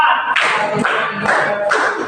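A group claps together in a counted icebreaker exercise, producing about four loud, sharp bursts of clapping spaced evenly roughly half a second apart.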